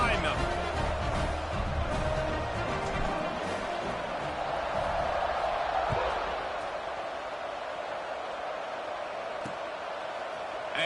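Stadium crowd roars at kickoff in a college football video game, Georgia Tech against Boise State, a steady loud wash of cheering filling the whole stretch under commentary.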